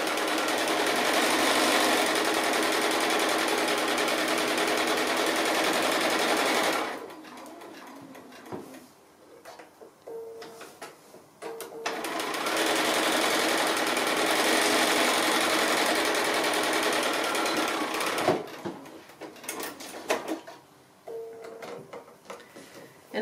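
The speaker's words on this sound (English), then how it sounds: "And I'm just sewing, as I said, slightly under 1/4 of an inch," A sewing machine stitches a seam on a fabric gift bag in two long, steady runs separated by a quiet pause, and pigeons coo softly in the background.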